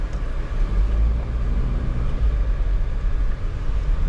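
A 2003 Toyota Unser 1.8 GLi automatic on a test drive gives a steady low engine and road rumble from inside the cabin, loud and continuous with no talk.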